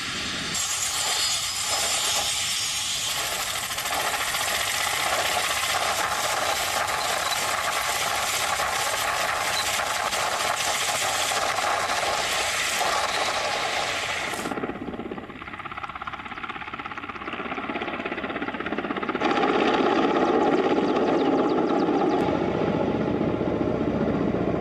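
Loud, steady roar of a Ka-52 attack helicopter with dense rotor and engine noise, shifting in tone partway through and swelling near the end.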